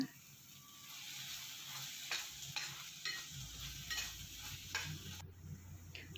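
Coriander powder, chili powder and chili sauces are stirred into wheat pasta in a pan, giving a soft background sizzle broken by repeated scraping strokes of a spoon, fairly quiet and close.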